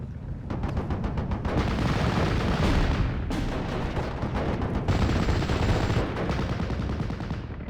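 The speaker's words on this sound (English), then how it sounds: "We can put some mortar fire onto those infantry" Mortar and gunfire in a Steel Division: Normandy 44 battle, a dense, continuous barrage of booming blasts and rattling shots, loud and sustained throughout with no voices.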